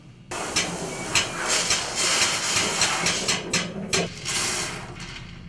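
A water spray rinsing down a surface being coated with Tnemec Aerolon Series 971, a bursty, hissing spray starting abruptly and continuing in uneven pulses, fairly close, with no talk.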